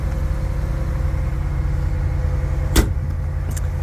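A 2015 Ram 1500 four-wheel-drive truck with a 5.7 liter Hemi V8 idles steadily after a remote start, giving a constant low rumble throughout, with a brief clunk near the end.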